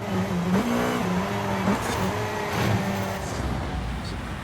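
A race car engine in the Forza Horizon 5 video game drones loudly and steadily, its pitch rising and dropping through gear changes, with no talk over it.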